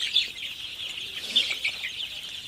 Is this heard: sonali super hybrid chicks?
yes